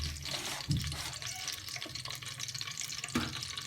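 Chopped onions drop into hot ghee in a cooking pan and set off a steady, close, hissing sizzle, with brief louder bursts as they hit the fat.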